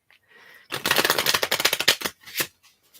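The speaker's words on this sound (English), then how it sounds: "And I will be through shuffling the cards just shortly." A deck of playing cards is shuffled in a quick riffle, producing a dense burst of rapid flapping clicks that lasts about a second and a half, followed by a couple of softer taps.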